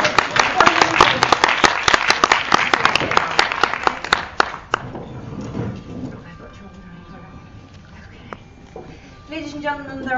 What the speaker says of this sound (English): nice round of applause for the world